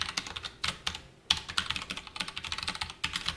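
Rapid, uneven clicking of computer keyboard keys as Java class code is typed during a programming lesson, close and clear, in bursts with brief pauses, without talk.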